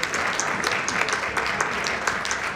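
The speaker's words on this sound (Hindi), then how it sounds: "इन बच्चों के लिए जोरदार तालियां तो बनती हैं" An audience gives a steady round of clapping for a children's classical Indian music performance, moderately loud and continuous with no voices over it.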